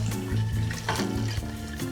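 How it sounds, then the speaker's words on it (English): Hot water poured into a pot of Chinese braised pork belly with Shaoxing wine, a loud, steady splashing gush with slight rhythmic pulsing, close up and without talk. "then enough hot water to cover the top"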